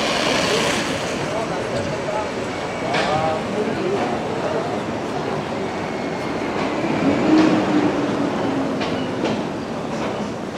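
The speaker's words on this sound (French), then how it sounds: "des petits trains qui permettent de faire une visite rapide quand on n'a pas le temps" Small tourist train rumbling along steadily through the streets of Toulon, with faint squeals and clatter beneath a continuous wash of background noise and talk.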